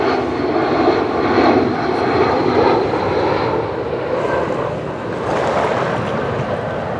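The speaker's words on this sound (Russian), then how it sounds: "Заходящие на посадку в Анапский аэропорт самолеты." Airliners on final approach to Anapa airport pass low over a Black Sea beach, a broad, steady jet-engine roar blending with wind and surf, loud and continuous without talking.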